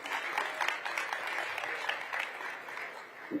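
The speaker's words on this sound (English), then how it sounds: "let's give it a round of applause" Audience applause at a panel debate on oligarchy and democracy, broad continuous clapping from many people, steady and moderate, fading slightly toward the end.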